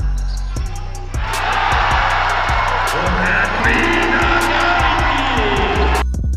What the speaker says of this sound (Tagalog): Tuwang-tuwa ang buong crowd.